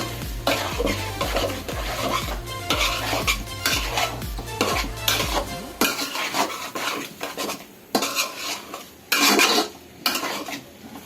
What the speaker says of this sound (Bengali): আমার ভেজে রাখা ফুলকপি আলুগুলো মিশিয়ে নিচ্ছি